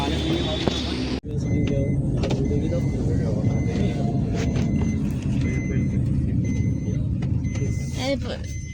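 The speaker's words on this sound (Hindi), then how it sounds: "पीछे गाड़ी है।" A car rumbles close behind on a road, a steady, loud low drone that runs almost unbroken through the clip apart from one brief dropout, while voices talk over it.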